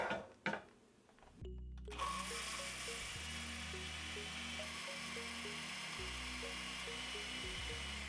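After a few brief knocks, a kitchen blender whirs steadily as it pulverizes aromatics for Ghana jollof rice, a loud continuous motor hum with a rattling, grinding texture and no talking.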